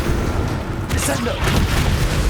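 A Descendo spell impact in Hogwarts Legacy, a loud booming crash with a rushing burst of noise at its peak, lingering as a rumbling thud afterward.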